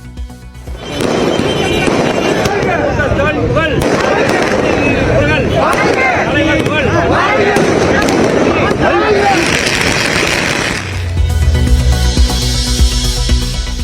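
Firecrackers burst in long rapid volleys at a supporters' celebration in Karur, a loud, dense crackling barrage that runs for about ten seconds before a deeper rumble and crowd noise take over.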